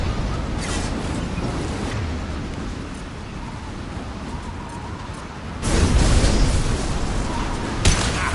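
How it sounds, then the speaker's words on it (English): Mass Effect 2 combat fills the scene with dense noisy rumble, then a concussive shot lands as a sudden louder burst with a deep thump near the end, followed by another sharp hit. "Firing concussive shot!"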